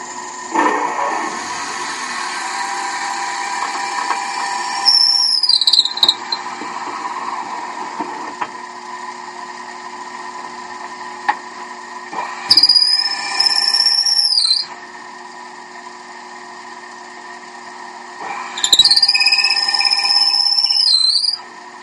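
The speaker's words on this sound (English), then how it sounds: "I'm using a 3/8 twist drill." A machine drill with a 3/8 twist bit whines steadily while boring, with three separate rising high-pitched squeals as the bit cuts in, over a constant motor hum.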